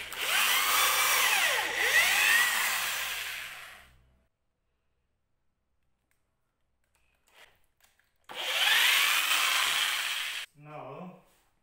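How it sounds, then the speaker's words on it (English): A power drill fitted with a 6.5 millimetre bit bores a hole in wood in a garage while building a garden bed. Two loud whining bursts of several seconds each are split by near silence, then a short voice. "Now we're gonna drill the hole."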